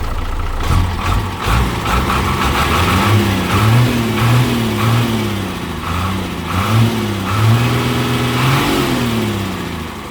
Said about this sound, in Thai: เสียงเครื่องนิ่มๆ